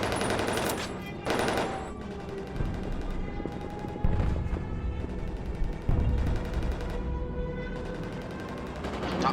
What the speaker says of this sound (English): Top turret fires at it.